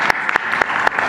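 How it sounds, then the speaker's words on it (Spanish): At a Mexican presidential morning press conference, a room claps to welcome a colleague, a short, steady run of many clapping hands with a few sharper claps standing out. "Un aplauso."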